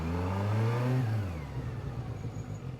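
A SRK 900 RR motorcycle engine revs up under acceleration, a loud rising drone that climbs in pitch, then shifts and settles into a rougher, lower mid-range hum as the bike speeds along.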